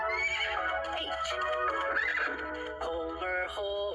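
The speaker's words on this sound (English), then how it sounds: "Homer horse, Homer horse." A horse whinnies loudly and repeatedly at close range, with clip-clopping hooves beneath, the calls rising and falling over about four seconds with no talking.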